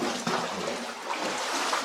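Water trickles and runs inside an old underground tunnel of the Highlander Mine, making a steady, even, fairly quiet wash of splashy hiss with no breaks and no talking.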